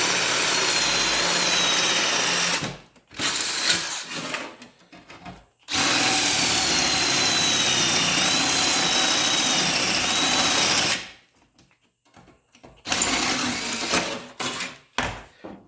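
A power drill bores holes in a homemade battery tray built with simple tools: two long, loud, close whirring runs separated by short stop-and-start bursts, with no talk.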